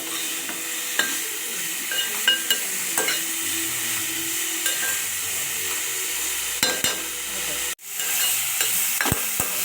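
A spatula scrapes and clinks against a pan as a ridge gourd chutney mixture is stirred over a constant sizzle, with a short break in the sound near the end.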